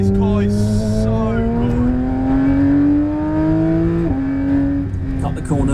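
A car engine revs steadily upward with a rising whine while drifting on a track, then drops briefly and climbs again, loud and close, with a short tire squeal near the start.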